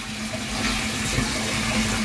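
Strong municipal tap water gushing steadily at a water filter installation, a loud continuous rushing flow with a faint hum underneath.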